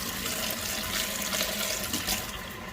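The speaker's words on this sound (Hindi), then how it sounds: "सबसे पहले मैंने सारी चीज़ें जो वॉश करने वाली हैं उन्हें वॉश करके उन्हें ड्राई होने के लिए रख दूँगी।" A kitchen tap runs steadily as groceries such as vegetables and fruit are washed under it, a close, continuous rush of water with no talking.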